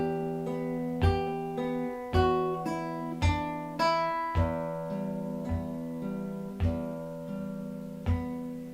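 A guitar melody of plucked single notes rings out clearly at a moderate pace, then eases into slower spacing on its final few notes, with no talk over it.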